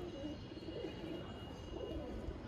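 Male homer pigeons coo in a low, soft, continuous murmur of overlapping calls, faint and steady with no voices.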